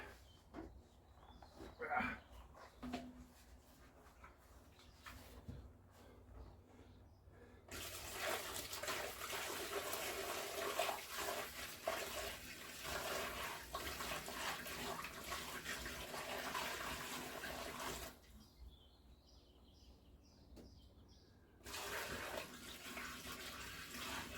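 Liquid pours steadily into a container while apricot moonshine mash is prepared, a sustained splashing rush running for most of the clip with brief pauses, fairly close and moderately loud.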